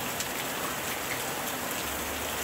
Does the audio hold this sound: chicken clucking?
no